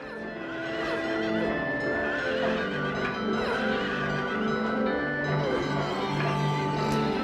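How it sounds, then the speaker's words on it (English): Carousel horses in the video game Silent Hill 3 let out distorted, layered neighs and whinnies over a dense, loud mechanical drone, repeating through the scene without a break. "I'm sure certain people were traumatized by killing the carousel horses."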